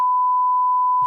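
A loud continuous censor beep, a pure steady tone lasting about a second over a podcast conversation, cutting off abruptly at the end as a voice briefly resumes.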